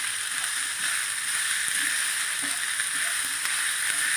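Green chillies sautéing lightly in hot oil for chilli parotta, a steady soft sizzle with faint crackles running evenly throughout, close and continuous with no talking.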